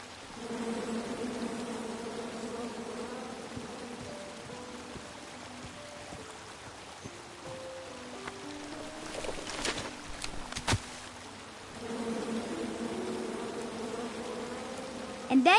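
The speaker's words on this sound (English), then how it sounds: "And then you chop down the tree full of angry bees?" Angry bees from a tree in a PS4 video game buzz in a steady drone, joined by tonal game sounds and a few sharp hits midway.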